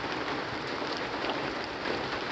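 A constant wash of falling rain fills the air, even and moderately loud, with no voices.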